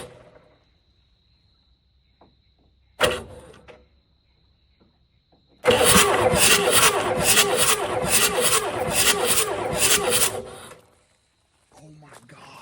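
A cheap diesel truck engine starts with a few short, sharp bursts, then catches and roars loudly and roughly for about five seconds before cutting off, close to the listener.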